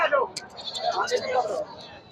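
Goats bleating at a busy livestock market, several close, wavering bleats overlapping one another amid crowd chatter and talk.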